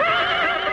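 A horse tethered under a tree lets out a loud, close, quavering whinny that fills the short moment on its own.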